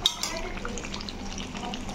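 Chicken simmering in a pan as water is poured in for a Bengali curry, producing a steady close bubbling sizzle with light stirring and a faint utensil scrape.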